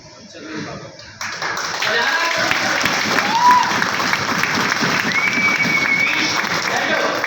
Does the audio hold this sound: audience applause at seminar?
yes